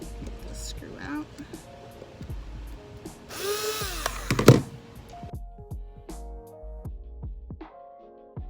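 A screw is backed out of an outdoor electrical outlet box with a power drill, giving short whirring bursts and one louder clunk amid scattered tool handling noise.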